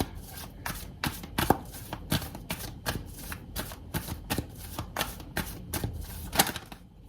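Tarot cards are handled and drawn from a deck in a steady run of crisp shuffling snaps and slides, close and fairly loud, with no one speaking.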